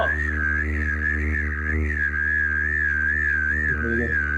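One person whistles a steady, slightly wavering tone while humming a low note underneath at the same time. Both sounds are held continuously and quietly for several seconds.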